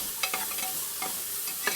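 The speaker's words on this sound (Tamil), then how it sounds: "இப்போ வெங்காயம் வதங்கிட்டு இருக்கப்போ" Onions sautéing in a pan for vegetable pulao, a steady low sizzle with a few quick spatula scrapes and stirs, close by and with no voices.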